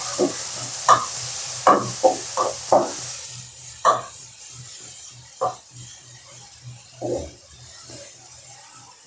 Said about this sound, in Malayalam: ഇപ്പം ഞാൻ ബട്ടർ ഇട്ട് കൊടുക്കും അതിലേക്ക് നമുക്ക് ഈ ഉള്ളി ഇട്ട് കൊടുക്കാം